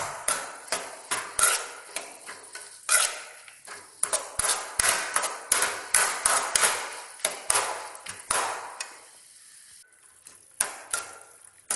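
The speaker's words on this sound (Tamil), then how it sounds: "இது நல்லா ஜூஸ் ஆகிற வரை இதை கிண்டிகிட்டே இருக்கணும்" Tomatoes are stirred in a pot for Ambur chicken biryani until they turn to pulp, producing a steady, rapid run of metallic spoon clanks and scrapes against the pan.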